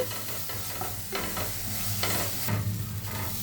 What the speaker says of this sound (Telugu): పుదీనా పేస్ట్ని యాడ్ చేసుకోవాలి. పచ్చివాసన పోయేంత వరకు ఫ్రై చేసుకోవాలి.